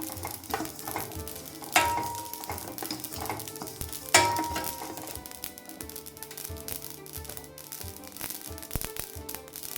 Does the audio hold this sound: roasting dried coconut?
yes